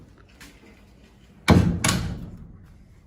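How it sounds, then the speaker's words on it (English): The door of a 1967 VW Beetle is swung shut, two quick solid thumps close together, the second a slightly softer latch catch, fairly near in a quiet setting. "I'll shut the door"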